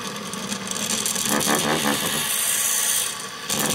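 A Dremel rotary tool spins at 5,000 RPM beneath a freely moving magnet, giving a steady, close whirring hum that carries through the whole stretch with a slight dip near the end.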